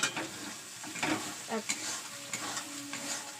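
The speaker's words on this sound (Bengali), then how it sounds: "ভালো করে নাড়াচাড়া করব" Stirring in a pan while Bengali potato curry (alur dom) cooks: a spoon scrapes in several short strokes over a soft, steady sizzle, fairly close and quiet, with no talk.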